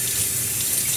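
Tap water runs steadily from a faucet while a child's hair is rinsed during a hair-wash routine, a continuous broadband splashing hiss close by with no talking.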